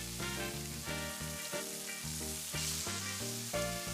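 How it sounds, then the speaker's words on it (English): Bacon sears in hot oil in a pan, a steady crackling sizzle that goes on throughout, heard with a background of music and no speech. "Add the bacon and let it sear."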